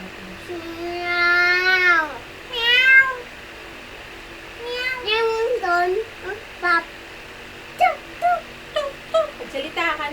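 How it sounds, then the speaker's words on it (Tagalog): Several cats meow in a row, drawn-out wavering cries at first, then shorter, choppier mews, fairly close, with a voice briefly mixed in. "Ay, mga pusa."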